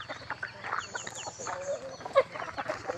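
Chickens at a Thai temple peck at uncooked rice, giving off soft, close, irregular clucks and short chirpy calls throughout.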